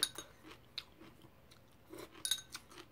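Steamed potato and young radish kimchi are chewed close to the mic in soft, crunchy, irregular bites, with quiet pauses between them and a louder cluster of crunches near the end.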